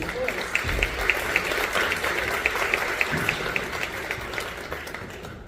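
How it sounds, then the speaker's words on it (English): Audience applause at a talent and fashion show in Cayman's Harquail Theater, a steady patter of many hands with some sharper individual claps, fairly faint and even throughout. "Let's give her a round of applause."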